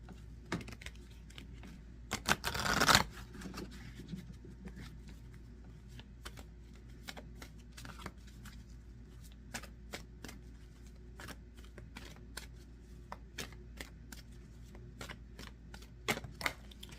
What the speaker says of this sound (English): These cards are flying all over the place today.